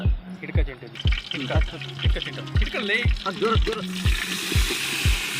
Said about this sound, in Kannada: ಹೆಚ್ಚಿರೋ ಈಗ ಈರುಳ್ಳಿ, ಟೊಮೊಟೊ ಮತ್ತು ಮೆಣಸನ್ನು ಹೆಚ್ಚಿಟ್ಟಿರೋದು, ಇದನ್ನು ಹಾಕ್ತೀವಿ ಈಗ